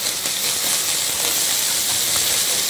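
Sausage browns in a pan while being chopped into bite-sized chunks, giving a steady, close, broadband sizzle and hiss that holds evenly throughout with no talk.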